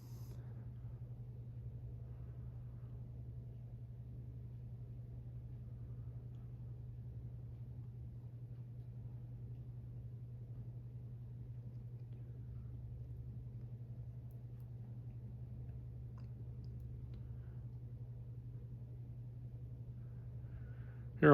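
Commander Kingston 52-inch ceiling fan running on its low setting, giving a steady, faint low hum with a soft airy wash and no rhythm or change throughout.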